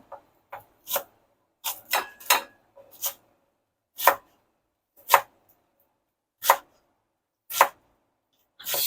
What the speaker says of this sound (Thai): น่าหั่นหอมผักชีก่อนนะคะ